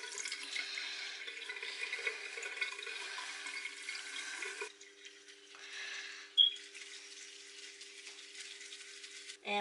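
Tap water runs into a sink while a makeup foundation brush is rinsed and swirled, a soft steady hiss for about four seconds, then quieter trickling with small splashes and a brief clatter.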